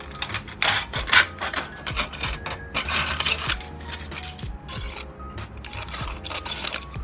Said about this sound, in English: So I'm just gonna cut some aluminum foil and use it as a